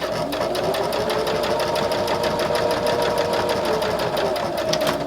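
A sewing machine runs steadily, stitching a fabric bookmark with a fast, even mechanical whir and rapid needle ticking close by, continuous for several seconds with no talk.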